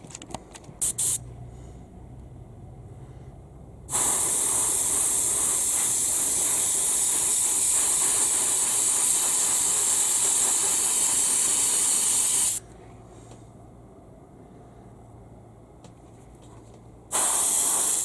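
An airbrush or spray can coating models with metal colour shift paint, two long continuous hissing bursts, loud and close, separated by a quieter pause with faint background noise.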